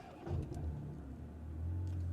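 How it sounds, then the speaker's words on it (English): A Ferrari Purosangue's V12 fires back up through its start-stop system, a brief low rumble heard from inside the cabin that swells quickly and then settles into a subdued hum. "when it shuts off and when it shuts back on, you hear that V12 roar up"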